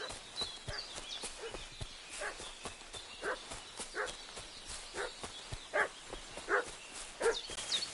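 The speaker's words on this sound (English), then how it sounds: "What's that dog making such a fuss about?" A dog in a video game barks and fusses repeatedly in short, regular bursts at mid distance, over a faint steady background hiss with some clopping-like steps.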